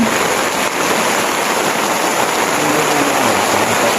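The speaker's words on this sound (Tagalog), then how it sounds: "Grabe ang ulan, walang tigil. Non-stop." Heavy rain pours down in a constant, dense hiss, loud and unbroken throughout.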